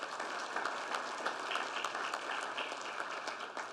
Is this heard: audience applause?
yes